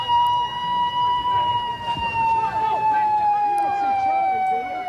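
A siren rises and falls in a steady wail somewhere in the background while a crowd shouts and calls out over it in a tense, chaotic scene.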